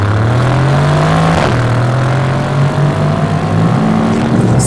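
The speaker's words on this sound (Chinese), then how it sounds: "就油门踩这么深，嘣就弹。" A Mercedes-AMG C63 S Coupe with 510 horsepower and 700 Nm of torque revs hard under full throttle in track mode. It gives a loud, close, continuous engine roar that climbs in pitch, drops briefly at each gear change and then climbs again.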